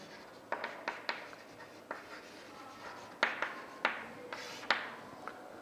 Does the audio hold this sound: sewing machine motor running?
no